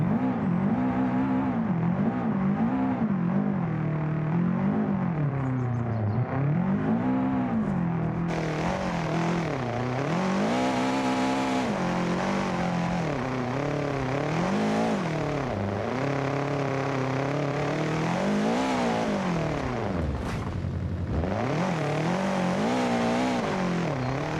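A rally car's engine and exhaust howl through a long stretch of racing in BeamNG.drive at a Zakarpattia rally championship, the pitch swooping up and down repeatedly with gear changes and throttle lifts, loud and close, with no voice heard.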